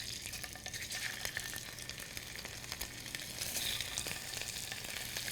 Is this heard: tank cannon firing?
no